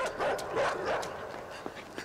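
Dogs bark and whine in the video game INSIDE, their yelps sitting within a continuous, fairly loud game soundscape with a few sharper yips near the end.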